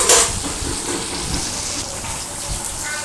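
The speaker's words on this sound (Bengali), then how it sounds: "ঢেকে আমি পটলটাকে ভালো করে লাল করে ভেজে নেবো" Pointed gourd (potol) fries under a lid in a covered pan, a loud, dense, continuous hiss and crackle of oil close by, steady from start to finish with a brief clink at the outset.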